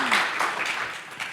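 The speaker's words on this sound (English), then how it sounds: "A round of applause for Carlos." Audience applause for a panel speaker at a SXSW EDU live session, a brief burst of clapping at moderate volume that tapers slightly toward the end.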